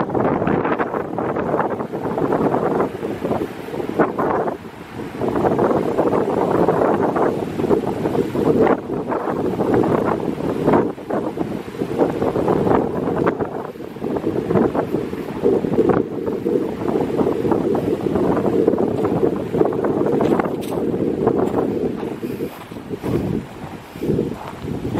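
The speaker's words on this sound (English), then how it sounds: "Very windy out here." Strong wind gusts roar steadily across an open lakeshore in pine woodland, a broad continuous rush buffeting the microphone with rising and falling surges throughout.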